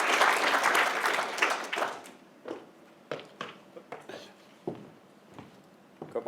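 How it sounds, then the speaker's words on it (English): Audience applause at an awards ceremony, a dense burst of clapping that thins out within about two seconds into scattered individual claps and fades. "and a big round of applause"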